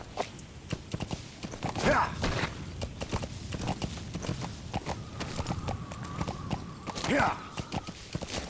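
In the Metal Gear Solid V video game, a horse's hooves clip-clop at a steady walking rhythm while it is ridden, under someone talking.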